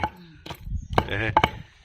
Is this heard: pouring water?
no